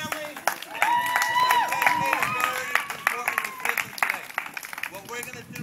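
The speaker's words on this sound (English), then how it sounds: "Let's clap for our new family." Church congregation on their feet clapping to welcome new members, a steady wash of many hands under singing or talk, continuous and fairly close.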